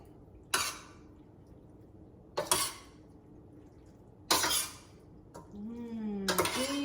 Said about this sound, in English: we're going to put our pasta in there. Okay. And we are going to mix it around.